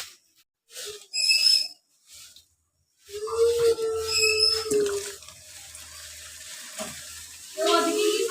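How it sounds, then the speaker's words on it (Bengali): Oil sizzling as luchi (puffed flatbread dough) fries in a pan, with brief clatters and a high whistle-like tone, plus a low hum and scattered kitchen noises. "লুচিটা ভাজবো লুচিটা ভেজে দিই টিফিনে"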